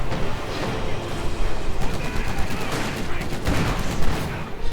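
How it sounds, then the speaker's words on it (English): Dense battlefield gunfire in the Company of Heroes 2 strategy game, rapid overlapping rifle and machine-gun bursts forming a loud continuous barrage, with a commentator's voice faintly underneath. "they are coming under intense fire, taking severe losses and ultimately routed"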